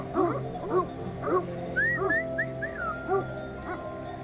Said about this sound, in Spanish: Este es uno de los cachorros.